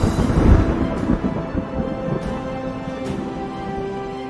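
Low rolling thunder from a storm rumbles steadily and broadly, with a few sharper cracks scattered through it and no voices.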